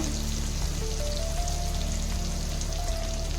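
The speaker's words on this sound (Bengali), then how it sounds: "এটাকে আমি ভালো করে মশলাগুলো কষে নেব" Chilli, coriander, turmeric and cumin powders fry with softened tomato in a pan for Bengali chicken and potato jhol. The sizzle is steady and fine-grained, like light rain, with occasional soft taps and no talking.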